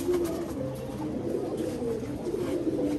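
A working Giribaz flying pigeon in a loft coos softly and repeatedly nearby, a low rolling call under faint background hum.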